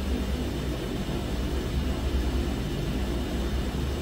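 A DHC6-300 Twin Otter taxies in Microsoft Flight Simulator 2020, its engines giving a steady, loud broadband drone with no change in pitch and no talk over it.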